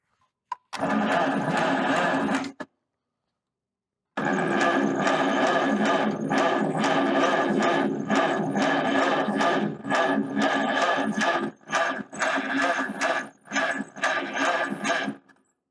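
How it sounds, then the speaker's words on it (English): A barn-find Farmall H tractor engine cranks over on its starter in two long bursts with a pause between, a harsh rhythmic grinding that turns choppy and stuttering toward the end. "I wonder if we're cranking over too slow"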